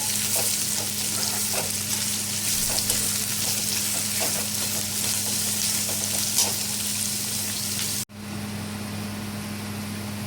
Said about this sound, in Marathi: आता हा कांदा सगळा आपण घालूया याच्यामध्ये मस्त लाल होईपर्यंत याला परतून घेऊया